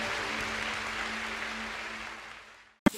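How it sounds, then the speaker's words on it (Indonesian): Applause from a church congregation during a worship service, a steady wash of clapping that holds for a few seconds then fades out, followed by a brief sharp sound. "Berikan tepuk tangan buat Tuhan kita yang baik."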